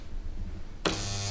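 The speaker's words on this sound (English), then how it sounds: "you can hear that clack. That's because rotational force is forcing all the marbles to the end of the barrels, to the notches" A marble machine gun spins its rotor blade, then a sudden loud broadband clack and rattle sets in as marbles are forced to the barrel ends and notches, followed by steady mechanical whirring.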